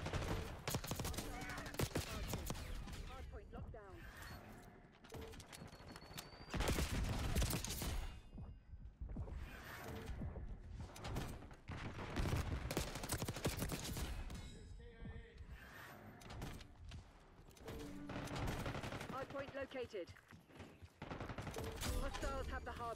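Rapid automatic bursts from a Jackal PDW submachine gun fitted with rapid fire in the game Black Ops 6 rattle in dense, repeated strings with brief pauses, loud and close, amid in-game effects and speech.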